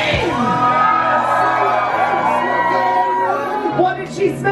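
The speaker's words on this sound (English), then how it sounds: "1, 2, 3, scream!" A crowd of passengers aboard the Disney Magic cruise ship screams together at sea, a loud sustained mass of shrieks and whoops that fades into scattered yells.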